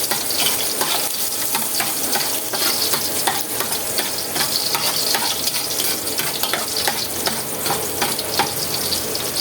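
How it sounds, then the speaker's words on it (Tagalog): Ingredients for ginataang manok, chicken in coconut milk, sautéing in a pan with a loud, continuous sizzle and frying crackle, broken by repeated scraping stirs, close up. "igisa na natin"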